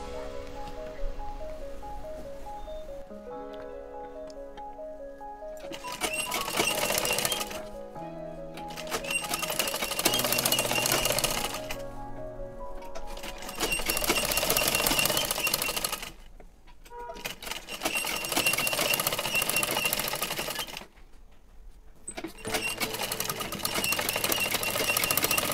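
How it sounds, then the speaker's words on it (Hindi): A sewing machine runs a topstitch along a back neck strip of a garment, whirring in several bursts of a few seconds each, separated by short pauses, loud and close with no talking. "तो ये हम टॉप स्टिच लगा लिए हैं।"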